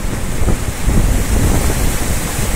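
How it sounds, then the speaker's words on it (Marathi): Loud, steady roar of river water rushing through a weir with its gates open, broad and unbroken, with some wind buffeting the microphone. "बंधाऱ्यावर आले मी, आणि पाणी काही जबरदस्त चालू आहे"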